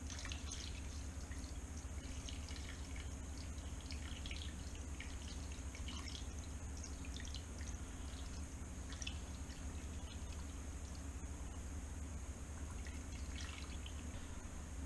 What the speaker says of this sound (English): And last, we're going to cover it with water.